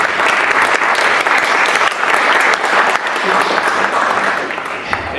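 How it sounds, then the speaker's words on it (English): An audience claps steadily and loudly at an event, a dense wash of applause holding level throughout. "please give them a round of applause"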